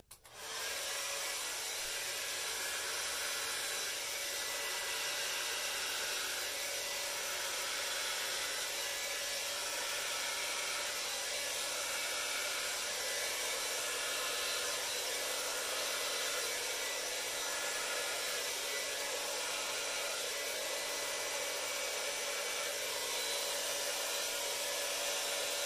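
Hair dryer running on high with the cool setting over a paint pour, a steady loud whooshing whine held for nearly half a minute without a break.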